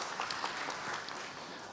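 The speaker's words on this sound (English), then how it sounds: "to welcome our panelist and our chairperson for this panel discussion with a round of applause" An audience at a regional directors conclave applauds to welcome the panelists and chairperson, a brief, steady patter of clapping at moderate level without speech.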